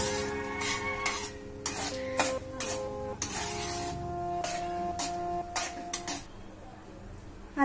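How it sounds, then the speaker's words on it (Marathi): Dry coconut slices are sautéed in a pan, with a steady spatula scraping and clicking in a rough rhythm over a low sizzle, close and moderately quiet, while a voice talks faintly in the background. "सुक्या खोबऱ्याचे काप पण एखाद्या मिनिटभर जरा थोडस परतून घ्यायचं"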